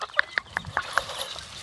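A chicken clucks in a quick series of about five short, sharp notes at a steady rhythm, fairly close, with faint background noise.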